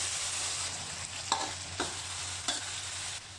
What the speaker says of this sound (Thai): ในส่วนนี้ก็จะปัดแบบนี้ไว้สักประมาณ5นาที